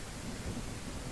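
Rain falling in the western survival game Cowboy Life Simulator, a steady, dense hiss with a low rumbling undertone, constant and fairly faint throughout with no voices.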